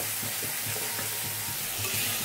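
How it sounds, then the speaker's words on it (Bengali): Spice paste sautéed in oil over a very low gas flame while making a Bengali rui fish curry, giving a soft constant sizzle under regular scraping stirs, close and unbroken, with no talk. "এই মশলাটা আমি একদম পুরো ঝিমা গ্যাসে এটাকে আমি ভালো করে কষিয়ে নেব"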